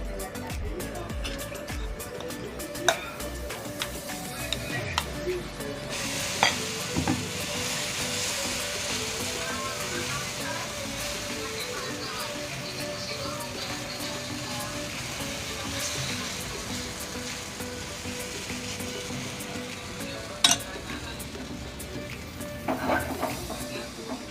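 A pudla made from semolina and rice flakes fries in oil on a pan with a long, steady sizzle. Occasional clinks and scrapes of a utensil sound close by, and a voice speaks now and then over the frying.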